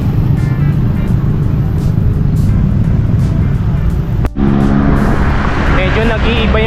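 Loud, continuous road traffic near Naic, Cavite, with vehicles rumbling past close by in a steady roar.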